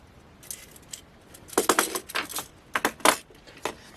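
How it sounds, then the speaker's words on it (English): Metal bobby pins rattle and clink against a small magnetic case in several short, bright bursts of jingling, close and fairly loud with brief pauses between. "I have my bobby pins in this little magnetic case like they have for paper clips."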